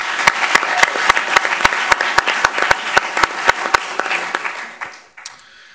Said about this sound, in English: Let's give the intern class a round of applause.